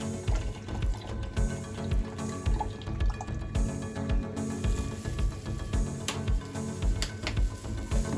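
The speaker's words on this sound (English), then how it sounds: "I'm adding my water." Water pours and trickles in a steady stream into a blender with orange and carrot for juice, with dripping splashes, fairly close, continuing throughout with no talking.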